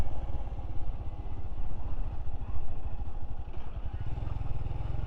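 A motorcycle rides through Elan Valley, its engine thrumming in a steady close pulsing beat with wind rush, fairly loud and continuous, someone talking over it.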